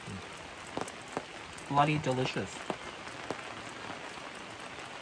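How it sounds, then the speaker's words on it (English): Rain pattering at a free campsite around a campfire, with soft scattered drops tapping over a faint wash, quiet and close, while a person briefly speaks. "The rain's gotten thicker, so hopefully our fire stays on."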